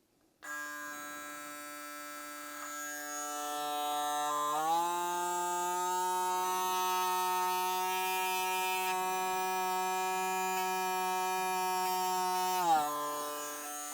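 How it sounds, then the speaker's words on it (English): VGR 015 hair clipper buzzing steadily, its motor pitch stepping up as it revs through bulk hair, then dropping back near the end; a loud, close, continuous electric hum with no talking. "Let's see how high the RPMs get in intuitive mode when it has to rev up going through bulk for the"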